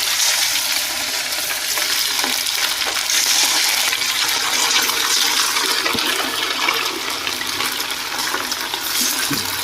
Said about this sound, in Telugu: ఇప్పుడు ఈ ఆయిల్ వేడైన వెంటనే దాంట్లో ఒక్కొక్కటిగా బజ్జీల మాదిరి వేసుకోవాలి